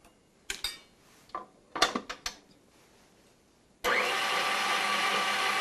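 Electric mixer whipping egg whites and sugar for calico meringues, starting abruptly and running as a loud, steady whir after a few clattering kitchen knocks and scrapes.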